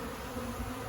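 A honeybee swarm gathered near a tree makes a faint, continuous buzzing hum throughout, heard from a short distance with no voices.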